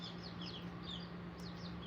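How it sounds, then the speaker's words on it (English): Chickens and young chicks on a ranch make soft, repeated clucking and peeping calls over a low steady hum, faint and close, with several short chirps scattered across the moment. "these were the chickens that were sent to me"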